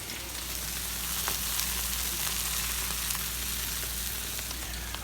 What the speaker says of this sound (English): we've got the buns buttered up and they're on the griddle